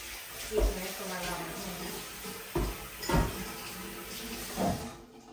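Tap water runs into a sink while dal and rice are rinsed and set to soak, a steady splashing flow broken by several louder clunks of pots and splashes.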